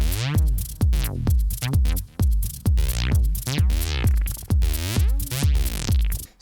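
Synthesized techno bass line from Ableton Analog: loud, rubbery low notes with sweeping filter swells, pulsing in a steady repeating groove, alone and close.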